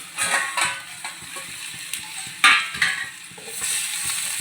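Raw plantain fry being stirred in a pan, with repeated scraping and clinking of a spatula over steady frying sizzle, close and moderately loud, without talking.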